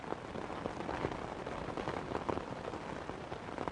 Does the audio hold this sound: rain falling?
yes